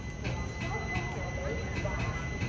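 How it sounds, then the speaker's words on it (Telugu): Express train running between Shankarpally and Vikarabad, heard from inside a coach as a steady rumbling roar with rhythmic clacks of wheels over rail joints. "మన ట్రైన్ అయితే శంకర్పల్లి నుంచి కూడా స్టార్ట్ అయిపోయింది"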